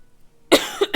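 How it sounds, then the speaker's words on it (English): A person coughs twice in quick succession, close and loud, the first cough sharp and the second a shorter follow-up after a brief pause, with no talking. "Gosh, this stupid cough."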